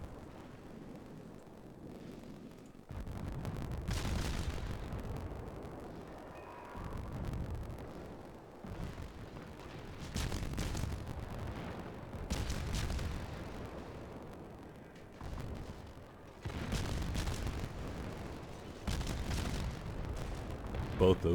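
Naval gun shots in World of Warships at Tier I co-op, a series of deep, heavy booms spaced a few seconds apart over wind-like background rumble, with someone talking between them.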